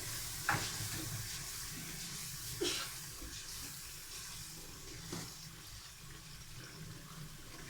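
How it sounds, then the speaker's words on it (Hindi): Chicken kofta masala with garam masala is fried and stirred in a pan, giving a steady low sizzle under a broad hiss and a few soft scrapes of the spoon spaced seconds apart, with no voices. "हम इसकी अच्छी तरह भुनाई करेंगे।"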